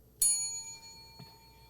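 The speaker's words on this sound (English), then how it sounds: "Okay, we got the bell. Got the bell. Is it working?" A small bell is struck once and rings out clearly, its bright tone lingering and slowly fading in a quiet room, followed by a soft knock about a second later.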